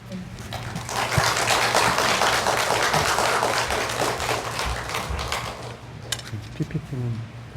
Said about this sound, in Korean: 오실 때 큰 박수로 환영해 주시기를 바랍니다